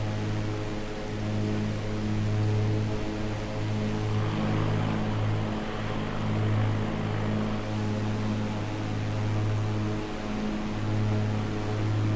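Twin piston engines of a Cessna 414AW in Microsoft Flight Simulator hum in a steady, even cruise drone with a deep propeller tone and broad airflow hiss, constant throughout.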